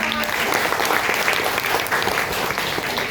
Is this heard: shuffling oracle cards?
no